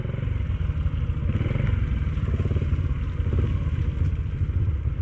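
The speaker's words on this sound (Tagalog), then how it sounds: "Ito pumasok yung mga Honda, oh." Several Honda motorcycles ride in along a muddy road, a steady loud low engine drone with rumbling revs and some clatter throughout, close by.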